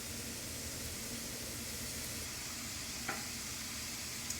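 Onions sizzling steadily in a hot pan for shakshuka, a continuous close hiss with a faint stir near the end and no talking.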